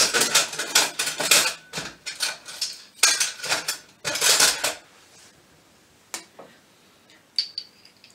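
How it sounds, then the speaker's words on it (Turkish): Metal cutlery clinks and rattles in a home kitchen as a spoon is picked out from among other utensils, with several clustered bursts of jangling followed by a few sparse, sharper clicks. "Hemen şuradan kaşık alalım."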